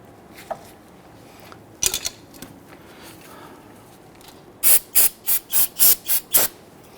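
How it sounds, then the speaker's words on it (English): Spray solvent hisses onto a brake caliper piston during rear brake work on a 2010-2019 Ford Taurus, a rapid series of about seven short, close bursts following a few scattered handling clicks. "By using some spray solvent, it does help that rubber slide better on that piston."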